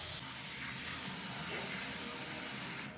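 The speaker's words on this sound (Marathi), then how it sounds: "व्यवस्थित पाणी घालायचं त्याच्यावर" Water runs from a tap onto fresh fenugreek leaves in a pot or wide bowl, soaking them for washing; a steady, close rushing splash continuing throughout and easing slightly at the end, with no talking.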